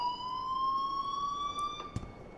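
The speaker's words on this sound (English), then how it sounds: "please turn off that alarm since that's your job" A continuous electronic alarm tone rings in the video game Life is Strange, a steady high-pitched drone that holds throughout with a brief knock near the end.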